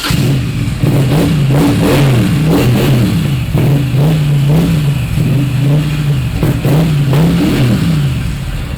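A British motorcycle fitted with short exhaust pipes sits running and is blipped repeatedly. Loud, close revs rise and fall in a rhythmic pattern over a steady idling throb.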